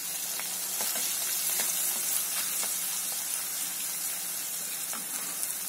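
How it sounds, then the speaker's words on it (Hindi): Garlic and ginger fry in hot oil for an instant mixed pickle, making a bright, continuous hissing sizzle. Faint ticks and pops run through it. No one speaks over it. "अब हम इसमें लहसुन डालते हैं और लहसुन के बाद अदरक डालते हैं।"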